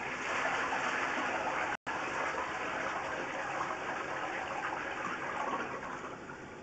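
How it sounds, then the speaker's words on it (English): Water gushes steadily and loudly into a drain during a flushing test for a partially blocked pipe, a continuous rushing wash with one brief cut near the start. "Do another flushing test."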